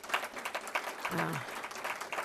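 An audience applauding at a college leadership talk, giving steady, dense clapping from a crowd. A voice speaks briefly over it partway through.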